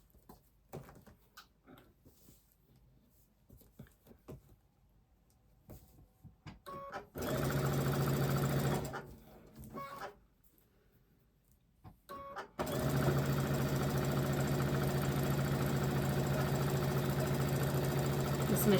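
A sewing machine stitching cotton quilt blocks runs in two loud, steady bursts of rapid mechanical whirring, with quieter handling sounds of fabric and pins between them.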